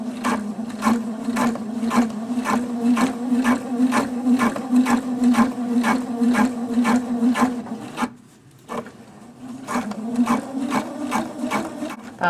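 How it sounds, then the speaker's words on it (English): Sewing machine running a quick basting stitch on jeans during a hem alteration, with a steady fast mechanical clatter of evenly spaced needle strokes, a brief pause near the end, then stitching again, close and loud. "I'm just going to do a quick basting stitch"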